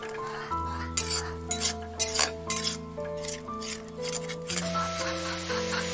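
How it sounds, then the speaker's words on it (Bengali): Garlic paste being stirred and sautéed for a village-style kalbose fish curry, with a spatula scraping and clinking against the pan over a low steady hum and faint sizzle, strokes coming in irregular bursts. "আর রসুন বাটা। এটাকেও আমি ভালো করে কষিয়ে নেব।"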